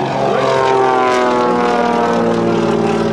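A Waco biplane's propeller engine roars loud and steady as the plane flies an aerobatic roll across the show line at the 2009 AirPower Over Hampton Roads airshow, with no other sound over it.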